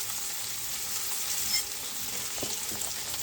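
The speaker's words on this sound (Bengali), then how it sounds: "এখন আমি পুঁটি মাছ ভাজা করছি গরম ভাতের সাথে" Puti fish frying in a pan, a steady close sizzle with stirring and scraping sounds, no talking.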